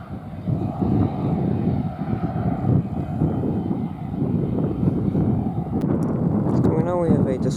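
Aircraft on the ground at London Luton airport on a windy afternoon, a steady broad engine roar close by with wind buffeting the microphone throughout, and a rising whine toward the end.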